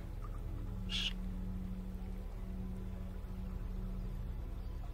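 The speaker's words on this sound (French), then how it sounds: "Le chant des oiseaux, le murmure du vent dans les branches." A single brief bird call rises once in a forest over a quiet, low steady hum of background noise.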